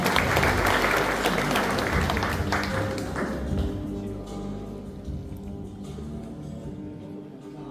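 An audience at a photo exhibition applauds to welcome a speaker, a dense burst of many hands clapping that gradually thins and fades out over several seconds.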